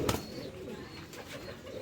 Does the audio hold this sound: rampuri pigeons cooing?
yes